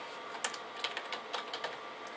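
Keystrokes on a computer keyboard while typing a search in Windows 8, a quick irregular run of close, crisp clicks with no voices.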